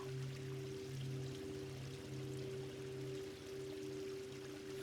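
Running water in the game YumeUtsutsu Re:Master, a steady pouring trickle at moderate distance over a faint sustained hum, with no talking.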